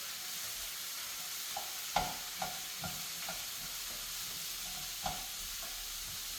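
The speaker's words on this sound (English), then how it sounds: "give this a stir" Leftover Mexican dinner, chopped up, heats in a pan with a soft, steady sizzle and hiss, punctuated by a few faint scrapes and taps of stirring.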